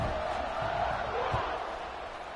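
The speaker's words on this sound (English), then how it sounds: "this crowd is buzzing after that last score" A football stadium crowd buzzes with a steady, diffuse roar after a touchdown late in the game, a far-off wash of many voices with occasional swells and thumps.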